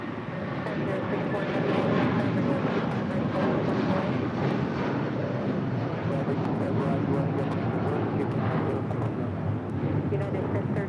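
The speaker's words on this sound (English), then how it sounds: "United 2749, wind 2408, runway 25 right, cleared for takeoff" A United airliner takes off from runway 25 right at LAX, a continuous broad jet-engine roar holding steady at a distance throughout, with radio-style voices faintly mixed in.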